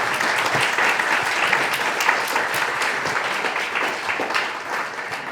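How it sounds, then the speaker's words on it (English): An audience at an evening talk applauds with steady, dense clapping that holds for several seconds at an even level, heard alone without speech. "Let's you. give her another round of applause."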